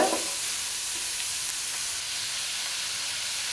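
Onions and tomatoes sauté in a pan for egg noodles, giving a constant soft hiss of frying that goes on without pause or talk.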